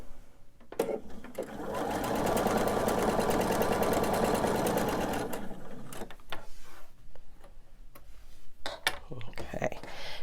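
A sewing machine stitches pieces of a candy dish pillow quilting project, running in a steady, fast, continuous burst for several seconds, then stopping, followed by small clicks and handling noises nearby.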